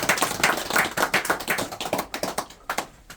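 An audience at a Buddhist memorial service for patriotic heroes and independence martyrs claps in quick, fairly even rhythm. The clapping is close and lively, then thins and softens toward the end.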